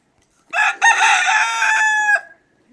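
A rooster crows loudly and nearby, one long drawn-out call with a brief break near the start, then silence.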